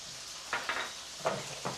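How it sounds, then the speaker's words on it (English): Lemon slices dropped into hot olive oil in a pan give bright, short sizzling bursts, about four of them, close and fairly quiet against a low background hiss, with no talking. "Okay, we have our oil nice and hot here. So let's go on ahead and add our lemon."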